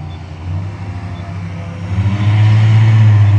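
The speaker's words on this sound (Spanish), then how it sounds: "Allá se escuchan las lanchas de la patrulla fronteriza." Border patrol motorboats on the Rio Grande, a low engine rumble that swells and grows louder and nearer over a few seconds, with no talk.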